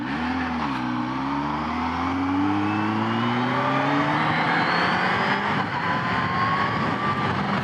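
A Kawasaki ZH2 motorcycle engine pulls hard under acceleration, its pitch climbing steadily through a long gear with a brief dip at a quick-shifter upshift, loud and close against steady wind rush.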